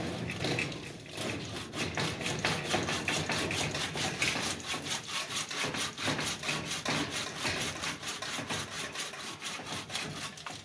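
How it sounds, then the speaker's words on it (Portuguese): A dead, dried-out tree being sawn on a rural property, giving a loud, steady, rapid rasping with close, evenly repeated strokes that run without a break. "Tá serrando porque morreu, secou."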